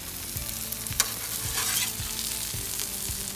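Eggs fry in a pan with a steady sizzle, alongside soft scraping and stirring knocks from a utensil. The sound is close and no one speaks.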